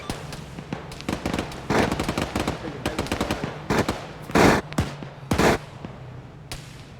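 Gunfire aimed at snipers: a dense run of sharp, cracking shots and short rapid bursts, with a couple of louder, heavier blasts midway. It sounds fairly close, with no talking over it.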